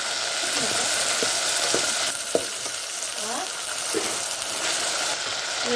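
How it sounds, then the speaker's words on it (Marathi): Pavta beans sizzle steadily in hot oil while a spoon stirs them now and then, adding scattered scrapes and clinks over the continuous frying hiss. "आता आपण तापलेल्या तेलात पावटे टाकून घेतल्यास पावटे छान तेलात भाजून घ्यायचं आहे तर मध्ये मध्ये हलवत राहायचं"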